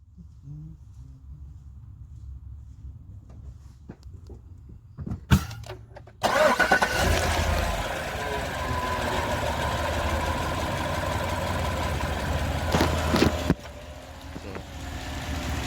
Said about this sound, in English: We're gonna put the camera down and just do a quick startup.